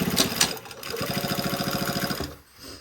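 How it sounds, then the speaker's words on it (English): A sewing machine topstitches a zippered pocket, running in a fast, even chatter of stitches for about a second before stopping, with quieter handling noises before and after. "now we're going to go to the other side. And top stitch"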